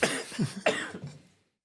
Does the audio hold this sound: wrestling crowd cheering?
no